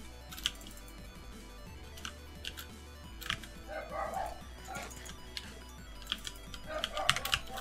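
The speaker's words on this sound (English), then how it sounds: "My dog's barking again." A pet dog barks in a few sharp yips over steady background game sounds and keyboard typing, moderately near, with brief bursts spread across the stretch.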